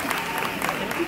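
Brief burst of audience clapping at a baby fair stage show, moderately loud, with voices mixed in underneath.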